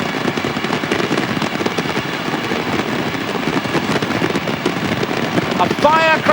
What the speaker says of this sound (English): A firecracker welcome.